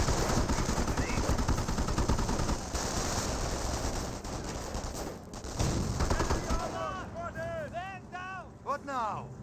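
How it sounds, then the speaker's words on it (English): Rapid machine-gun bursts from an MG42 and heavy shots from a captured Pak 38 anti-tank gun in the Company of Heroes strategy game, dense and continuous, with a commentator talking throughout. "We do have the captured Pack 38 firing some rounds into this heavy cover"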